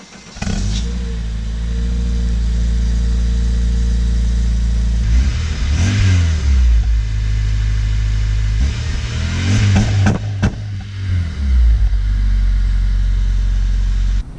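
A car engine fitted with a new aftermarket muffler, running at a steady loud idle, then revved twice in quick succession, each rise and fall clearly audible, with no talking.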